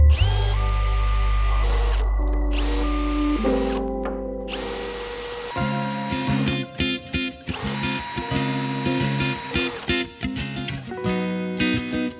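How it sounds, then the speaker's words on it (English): A power drill bores into a carbon fiber rear diffuser for a 2015-2023 Dodge Challenger, a loud close whine that holds steady, then breaks into rapid stuttering bursts as the bit bites through the material. "We're gonna drill into the section where we need to do the hole."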